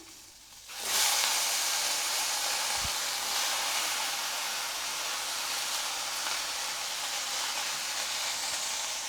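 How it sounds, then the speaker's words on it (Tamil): Cut eggplant dropped into hot oil for Madras sambar, a sudden loud sizzle that settles into a steady close frying hiss for the rest of the stretch. "அடுத்ததாக நம்ம கட் பண்ணி வச்சுக்கூடிய கத்திரிக்காய் இதில் சேர்த்துடலாம்"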